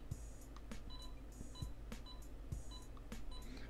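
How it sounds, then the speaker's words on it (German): Repeated short electronic cash-register chimes and beeps from a video game, a few bright dings spaced across the moment over a steady low hum. "Hört sich an wie eine Registrierkasse"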